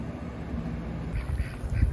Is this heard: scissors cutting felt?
no